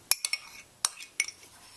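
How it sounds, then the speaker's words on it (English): Blackberry pie filling with cornstarch, lemon juice and prunes being stirred, heard as a few sharp, close clinks of a utensil against a bowl in quick succession. "Gently stirring to blend well."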